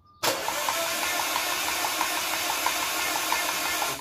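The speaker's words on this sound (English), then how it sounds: "I believe we could crank the engine. No start, just turn the engine." An Audi A4/A5 or Volkswagen engine cranks over with its fuel pump system disabled for a compression test, turning without starting in a steady, even rhythm of pulses, loud and close, with no talk.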